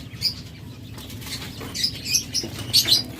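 Small pet birds such as lovebirds, budgerigars and cockatiels give a few high, bright chirps over a low background rustle, with bursts of wing flapping close by, at a bird sale.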